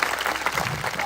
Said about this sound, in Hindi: एक अच्छी ताली बजा दे अभी तक के लिए, प्रभु के लिए।